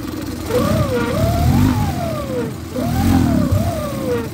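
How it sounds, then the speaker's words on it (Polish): A Suzuki DF20A EFI fuel-injected outboard engine runs unevenly and shakes, giving a close, steady mechanical drone whose pitch surges up and sags back down twice, with no talking. "Mi to się nie podoba, że na wtrysku silnik tak się telepie."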